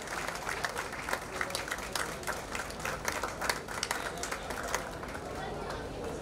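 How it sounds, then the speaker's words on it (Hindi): Steady crowd applause at a public welcoming ceremony, with many hands clapping in dense broadband bursts that hold across the whole stretch while people talk and murmur underneath. "आप सब सम्मान करें तालियां बजाकर।"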